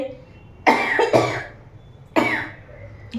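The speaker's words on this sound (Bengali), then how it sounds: "হঠাৎ করে কী যে কাশি উঠেছে" Three harsh coughs close to the mic, two in quick succession and then one more after a pause, with a faint click at the end.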